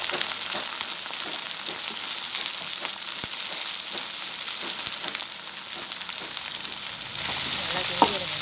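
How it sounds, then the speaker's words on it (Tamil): Okra stir-fry with a little turmeric sizzles steadily in a pan while a spoon scrapes and taps through it in regular strokes, the frying growing slightly louder near the end. "நல்லா கிண்டி விடுங்க."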